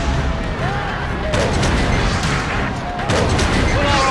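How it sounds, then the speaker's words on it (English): Artillery volleys in a large ancient battle video game with Roman forces, a dense continuous roar of booms and crashes with overlapping bursts, loud and close, under a constant wash of battle noise. "Steve, stop our artillery"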